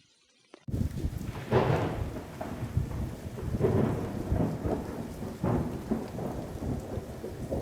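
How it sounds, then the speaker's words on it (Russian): Steady rain falling in a rocky Dagestan gorge with rolling thunder, several swelling rumbles over continuous close hiss, starting abruptly after a brief quiet moment, no talk. "и дождь."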